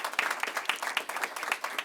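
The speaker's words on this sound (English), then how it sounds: "So a big round of applause for them too." Applause from the audience at a digital equity plan announcement in Cook County, a short steady patter of clapping at moderate level with no voices over it.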